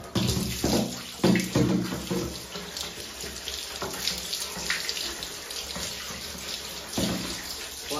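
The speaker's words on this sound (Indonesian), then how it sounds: "Kita cuci dagunya sekarang teman-teman." Tap water runs steadily into a sink while the chin of an ondel-ondel doll's face is washed beneath it, with splashing surges and rubbing under the continuous close stream.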